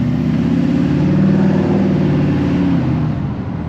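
A Duramax diesel pickup truck engine runs steadily close by, a loud deep rumble with a dense low throb that holds for several seconds and eases slightly at the end, with no talking.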